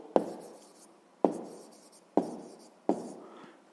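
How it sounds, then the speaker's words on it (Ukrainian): A number is written down by hand on paper in four quick strokes, each a sharp scratch that fades out, evenly spaced and close by with no talk. "записуємо це число"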